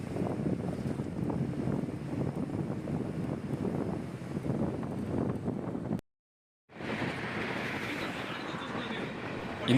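An APSRTC bus cruising at about 70 to 75 km/h on a highway near Thuvarankurichi, with a steady broadband road and engine rumble plus wind buffeting, cut by a brief dropout before resuming.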